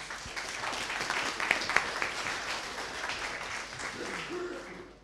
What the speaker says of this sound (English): Please give him a little round of applause.